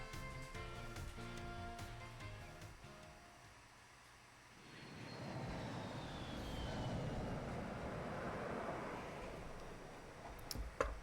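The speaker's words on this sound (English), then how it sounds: "And now we're on a plane." An airplane in the Pokemon Scarlet video game, a steady low engine rumble and airy roar swelling after a softer passage of game music, fairly faint throughout with no talk.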